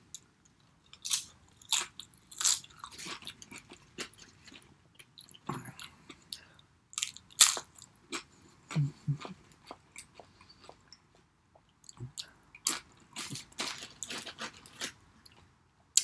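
Close, intermittent crunchy bites and chewing of organic nachos, sharp irregular crunches separated by quiet pauses, with no talking.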